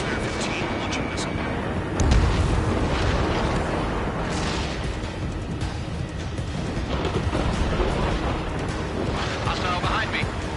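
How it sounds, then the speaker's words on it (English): Ace Combat 7 jet combat: a missile launches amid dense roaring engine noise and rumbling booms, loud and continuous throughout, with radio chatter from pilots over the top. "Spare 15, launching missile."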